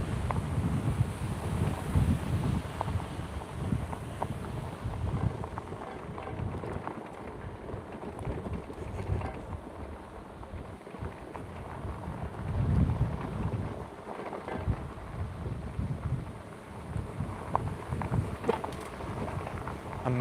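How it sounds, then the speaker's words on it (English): Strong wind buffeting the microphone outdoors during an attempted electric all-wheel vehicle test ride, a loud, continuous rumbling roar that surges and eases in gusts. "it's so damn windy. Oh my gosh, it's so windy."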